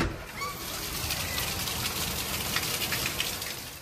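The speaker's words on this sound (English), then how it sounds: "it just started downpouring outside" Heavy rain pours down outside in a dense, continuous hiss, steady and fairly loud throughout with no pauses.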